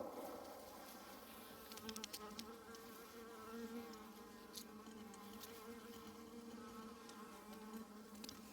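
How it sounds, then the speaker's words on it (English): Honeybees buzzing inside a hive during a late winter check, a steady, low, faint drone held throughout, with occasional sharper buzzes from individual bees close by. "Plenty of bees in there."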